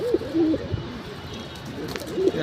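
Military silver and khaki pigeons cooing in soft, repeated low warbling calls, close by, with a faint room hum behind and no talking.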